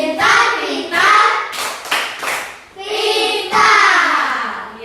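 A class of children do the tepuk pintar clapping chant, rhythmic bursts of hand claps mixed with their chanting voices, loud and close in a classroom.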